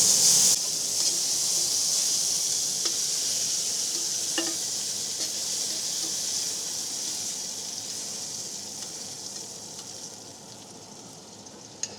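Thin slices of deer heart sear in a hot pan, with a loud, bright sizzle right at the start that slowly fades over the following seconds, joined by occasional faint clicks and no voices.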